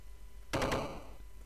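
A gun fires in the Zero Tolerance video game, either the shotgun or the handgun. A single loud, sharp blast with a quick rattling tail stands out against a low background hum.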